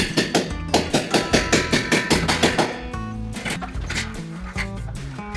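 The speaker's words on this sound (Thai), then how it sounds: "เราก็จะทำการตอกเนาะตามระยะที่เราวัดไว้" Rapid steady hammer blows as nails are driven into a ceiling frame's main battens during a DIY ceiling build, about a dozen sharp close strikes in even rhythm, then looser knocking and clatter.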